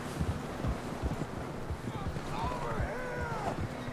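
Horse hooves clip-clopping in Red Dead Redemption 2 as riders climb a steep trail, a steady near hoofbeat rhythm under wind, with a voice speaking.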